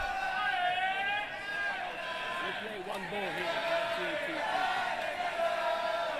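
Spectators at a table soccer World Cup men's doubles semi-final cheer and yell continuously in a dense, loud roar of overlapping voices, with shouts swelling midway through.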